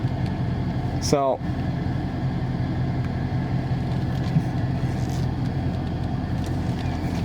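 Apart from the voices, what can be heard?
Dodge Charger Scat Pack creeping into a parking spot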